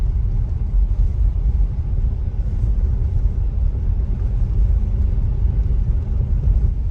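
Steady, loud low rumble of a Tesla Model Y rolling over an icy, snowy road after a big snowstorm, continuous road and tire noise heard from inside the car with no talking.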